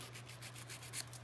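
Fingernails being filed with a nail file, a quiet rhythmic scraping of repeated short strokes, close by and faint, with no talking.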